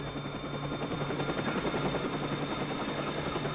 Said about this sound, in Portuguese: E esse helicóptero que tô ouvindo?